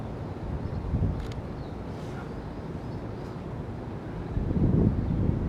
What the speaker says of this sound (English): it's a bit windier than I anticipated